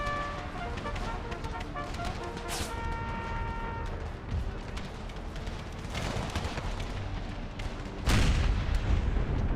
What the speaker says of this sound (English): canister shot going out against their center